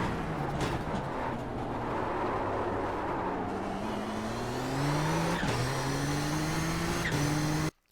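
A Nissan GTP ZX-T prototype race car at full throttle around Suzuka in the iRacing sim, its engine whine climbing steadily through the gears with brief shift dips, loud and close, before cutting off abruptly at the end.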